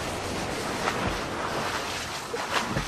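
Ocean waves give a steady, dense broadband wash of surf, constant and fairly loud throughout, with no distinct breaks and no speech.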